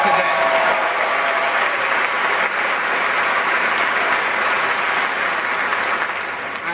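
A crowd including uniformed service members applauds Congressman Jerry Lewis at an event with George W. Bush, a dense, sustained wash of clapping that holds steady for several seconds and fades slightly at the end.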